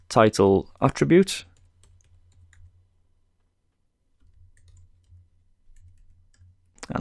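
Faint, quiet keyboard typing on a computer: scattered soft clicks in two short stretches after someone speaks briefly at the start, with a near-silent gap between.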